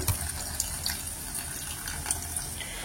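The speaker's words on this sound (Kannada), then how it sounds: "ಇದು ಕುದಿದ ನಂತರ ನಾವಿಲ್ಲಿ ಮೊದಲೇ ಹುಳಿ ರಸ ತಗೊಂಡಿರ್ತಿದ್ದೀವಲ್ಲ, ನಾವು ಅದನ್ನ ಇಲ್ಲಿ ಹಾಕ್ತಾ ಇದ್ದೇವೆ." Tamarind water is poured into a pot of boiling tomato rasam, giving a soft, steady trickle and splash of liquid throughout at low volume.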